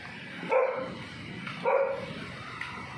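A dog barks twice in sharp bursts about a second apart, fairly close, outdoors in light rain.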